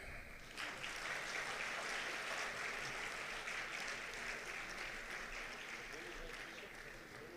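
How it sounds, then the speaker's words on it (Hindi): Audience clapping at a welcome ceremony for a chief justice held by a bar association, sustained moderately dense applause heard from a distance, fairly faint, with a voice faintly audible beneath it. "और आप तालियां बजाएं।"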